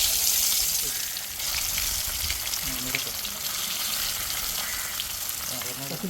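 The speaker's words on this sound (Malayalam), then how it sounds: "വറുത്ത് കോരി എടുക്കുകയാണ് കരിഞ്ഞിട്ട്." Pieces of snakehead fish fry in hot oil, giving a loud, steady, close-up sizzle that holds for several seconds with faint stirring underneath.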